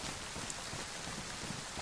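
Rain falls in the video game DayZ, a soft, even wash of drops that stays quiet and constant, with no voices over it.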